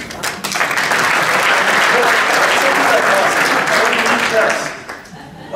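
Workshop audience bursting into sustained applause, loud and dense clapping that holds steady for several seconds before tapering off near the end.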